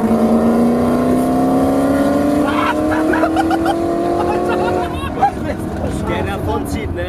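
A 900 hp BMW M3 sports car engine roars loudly from inside the cabin, its pitch climbing steadily under acceleration before dropping as the revs shift, with people talking over it.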